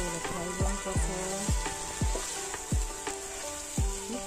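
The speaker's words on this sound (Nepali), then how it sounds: "अब यो चाहिँ फ्राई मात्रै हो, यसलाई फ्राई गर्नुपर्छ" Broccoli and button mushrooms sizzle in a frying pan, a steady quiet hiss broken by regular soft knocks of stirring, with no voices.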